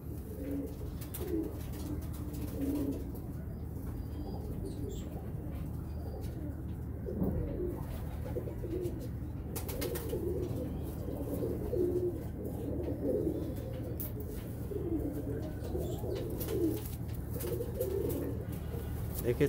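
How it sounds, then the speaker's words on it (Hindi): Pigeons coo softly with repeated low, throaty calls against quiet background noise, while someone talks intermittently nearby. "ये बहुत बच्चे उड़ाने वाले कबूतर हैं"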